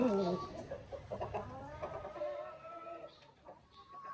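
Upgraded native chickens, a white Asil among them, cluck and murmur in a backyard breeding pen, a steady close-up chorus of soft fowl chatter with an occasional louder call, alongside faint background noise.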